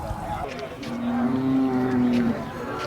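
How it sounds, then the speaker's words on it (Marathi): A large bull at the Sangola cattle market lets out one long, low moo lasting over a second, close and loud above a murmur of market background noise. "तर बघू शकताय मोठ्या मापाची बैल आहे ती"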